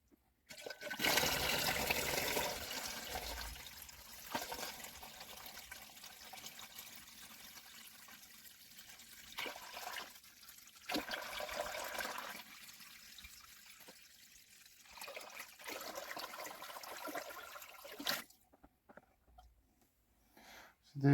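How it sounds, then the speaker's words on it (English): Water pours and splashes steadily into a Walstad low-tech planted aquarium during a water change, a continuous rushing flow with a few brief pauses before stopping near the end, with no pumps running. "that's another day's water change done"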